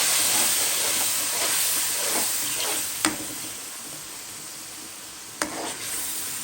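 Water poured into hot oil with frying whole spices (cumin, bay leaf, cinnamon, cardamom) for a Bengali chicken and potato curry gives a loud continuous sizzling hiss, with two sharp clinks of a utensil.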